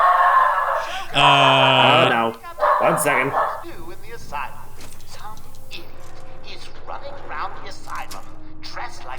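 A dog barks and yips in a short, loud burst of a few sharp calls early on, with game-world ambience and people talking over and after it.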